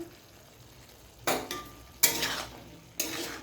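Pumpkin and potato lightly fry in oil with five-spice and dry chilli, a spoon scraping and clanking against the pan three times in sharp, close strokes over a faint sizzle.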